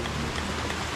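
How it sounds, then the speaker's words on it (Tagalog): Heavy rain pouring down steadily during a rainy-season trek, a dense, even hiss that fills the whole moment with no breaks or other sounds standing out. "Talagang maulan ngayon"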